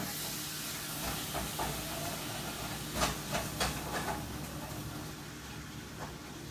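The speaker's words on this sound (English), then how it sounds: "Just gonna get this stirred up" Food for meal prep being stirred in a hot pan under a steady hiss of sizzling steam, with a few soft scraping strokes of the utensil up close.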